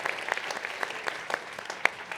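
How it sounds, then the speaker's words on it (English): Scattered applause from a town hall audience, sparse and faint with individual claps standing out irregularly rather than a full, dense ovation. "Give yourselves a round of applause, please, for participating in our democracy."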